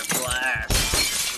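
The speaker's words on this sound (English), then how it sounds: "I'm breaking your glass." Glass shatters with a sharp, loud crash in the Happy Wheels video game, its bright crackling spray lasting almost a second while someone speaks just before and over it.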